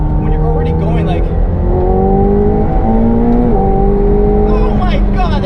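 A McLaren 720S supercar accelerates hard in third and fourth gear, its engine note climbing in loud, rising sweeps with quick shifts in between, heard from inside the cabin as someone talks over it.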